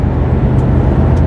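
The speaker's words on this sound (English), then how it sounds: "there's always wind noise around this area of all the trucks, and I'm getting it here now" Inside a Mercedes-Benz Actros 1845 truck cab on the move, a steady low rumble of wind and road noise fills the cab, constant and fairly loud with no talking.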